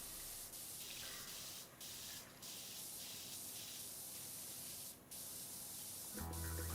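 A pressure washer in the PowerWash Simulator 2 video game sprays grime off surfaces, a continuous loud hiss broken by a few short pauses. A brief tonal game sound comes in at the very end.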